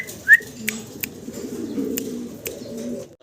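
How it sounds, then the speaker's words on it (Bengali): A pair of yellow running fancy pigeons gives a low, soft cooing murmur close by, with a short bright chirp near the start and a few faint clicks. "ইয়েলো কালারের রানিং এক জোড়া পারবিন কবুতর"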